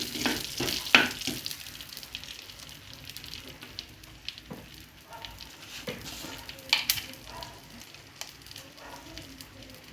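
Tempering for a dhal curry made without coconut milk sizzles and crackles in a pan, with spoon stirring and scraping strokes breaking through at intervals; steady frying bubbles underneath, fairly close.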